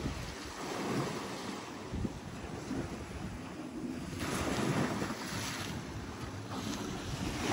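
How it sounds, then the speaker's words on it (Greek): Rough sea waves roll and break on a wild beach, a continuous surging roar that swells and recedes, buffeted by gusts of wind across the microphone. "Να τη θάλασσά μας."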